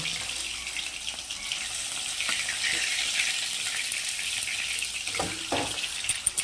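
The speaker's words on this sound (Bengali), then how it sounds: "দেখো মাছটা মনে হচ্ছে ভাজা হয়ে এসছে আমার" Fish pieces frying in hot oil in a pan, a steady, close, bright sizzle throughout with a few faint knocks and scrapes toward the end.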